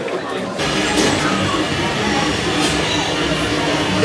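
A train ride at Disney World's Hollywood Studios rumbles loudly and steadily from close by, with rolling wheel and carriage noise starting abruptly under a voice.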